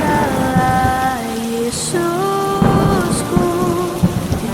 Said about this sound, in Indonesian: di tengah badai